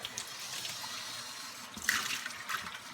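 Water runs from a tap into a sink for rinsing on a homestead, a steady hissing stream with brief splashy surges, close and unaccompanied by talk.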